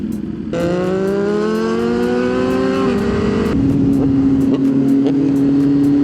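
A Yamaha MT-09 three-cylinder motorcycle engine revs up with a rising whine, then settles into a steady, loud drone close by.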